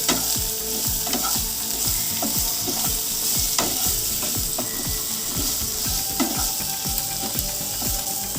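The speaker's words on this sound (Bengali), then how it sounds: "এবার হলুদ আর লবণ দিয়ে আলুটা একটু ভালো করে ভাজা ভাজা করে নেব" Potatoes fry in oil seasoned with turmeric and salt, giving a steady close sizzle under a brisk, regular rhythm of spatula scrapes against the pan.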